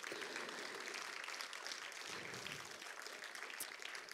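In a French church service, a congregation claps to acclaim Jesus Christ: a continuous, fairly faint wash of many hands, even and unbroken throughout.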